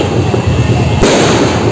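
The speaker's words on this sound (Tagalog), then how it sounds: "Putol-putol pala yung paputok." New Year fireworks and firecrackers bursting overhead in a loud, dense barrage of crackling pops, with a sharp louder burst about a second in and continuous rumbling under it.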